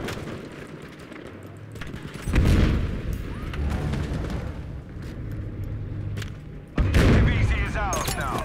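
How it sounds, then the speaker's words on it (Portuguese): Battlefield V grenade launcher blasts and gunfire: heavy booms near 2.5 and 7 seconds over a rumbling battle bed with scattered shots, loud and close. "Essa granadeira é maneira demais, velho"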